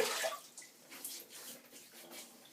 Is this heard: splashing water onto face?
yes